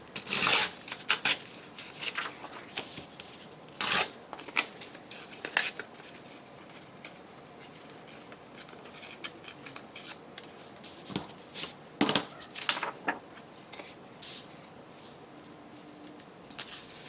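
Close, crisp scissor snips and rustling paper as pieces are cut out for scrapbook pocket pages, coming in irregular bursts with brief pauses and no talking.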